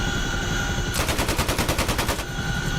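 Helicopter door gunners fire machine guns in DCS World over the Persian Gulf map, a single sustained rapid burst of about a second and a half heard over steady rotor and engine drone.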